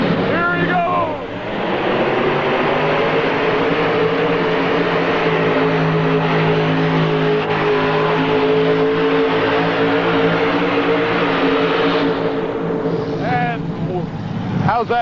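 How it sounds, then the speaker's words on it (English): Pulling tractor at a 1986 indoor tractor pull at Indy, powered by six supercharged alcohol-burning 427 Chevrolet engines, gives a loud, sustained roar that holds steady for most of the run before dropping off. "for 6 supercharged alcohol-burning 427 Chevrolets"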